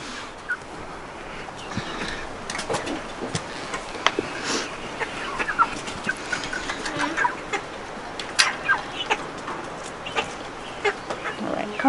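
Large backyard chicken with an impacted crop, outdoors, giving scattered soft clucks and calls over faint ambient noise, with some light vocal sounds nearby.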